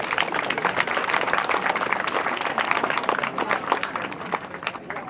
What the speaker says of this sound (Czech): Zatleskáme ještě.